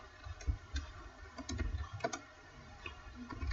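Chat message being typed on a computer keyboard, a quiet, close run of irregular key clicks in short bursts with brief pauses between them.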